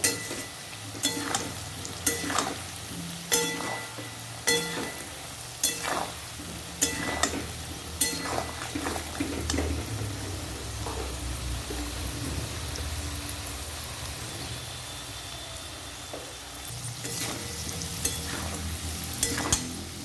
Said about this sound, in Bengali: হাফ চামচ লঙ্কার গুঁড়ো দিয়ে দেব ভালো করে নেড়ে নেব